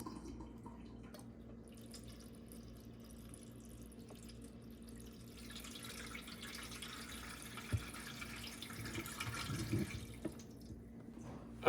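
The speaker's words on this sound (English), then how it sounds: "We're just putting some cold water in here." Cold water trickling and dripping into a Joy Pebble countertop dishwasher, a faint steady wash of running liquid with occasional small splashes and drips, no talking.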